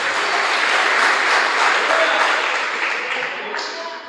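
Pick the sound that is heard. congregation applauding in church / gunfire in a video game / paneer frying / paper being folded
congregation applauding in church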